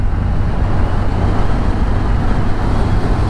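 TVS Ntorq BS6 scooter riding along after its ride mode is switched, with a loud, steady engine drone and road and wind rumble throughout, with no talking.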